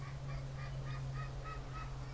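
A blind pet duck gives a run of repeated nasal honking calls, about seven evenly spaced quacks, close and clear over a steady low hum.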